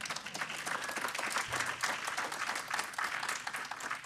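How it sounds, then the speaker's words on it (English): Sustained audience applause fills a conference hall at the close of a talk on implementing Storybook and Drupal 10, dense and steady clapping holding at an even level from start to finish. "I'll take questions after applause"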